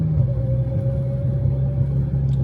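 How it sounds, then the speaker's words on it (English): A steady supercharger whine rides over a low, continuous engine rumble from an Audi S4 cruising along, holding an even pitch throughout. "Just listening to that supercharger whine while you casually driving is hella intoxicating."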